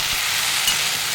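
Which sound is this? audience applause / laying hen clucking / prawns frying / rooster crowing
prawns frying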